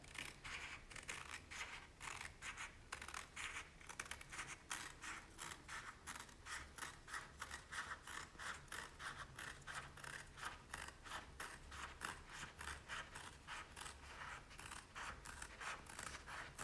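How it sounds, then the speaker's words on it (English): Paper being cut along an edge for a box lid, a rapid, even series of crisp snipping strokes repeating for over fifteen seconds, close and fairly quiet with no talk. "I'm gonna go ahead and make my first edge cut."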